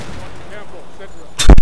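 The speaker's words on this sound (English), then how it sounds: "I wonder if I just shoot a rocket launcher there." A rocket launcher fires in the Battlefield 3 military shooter: a sudden loud blast near the end cuts through a quiet, faint ambient bed, one heavy booming discharge.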